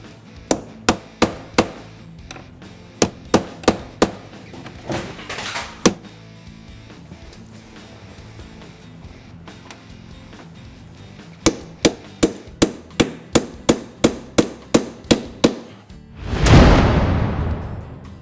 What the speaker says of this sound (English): Your first step is going to be to knock out all your rivets along your outside rail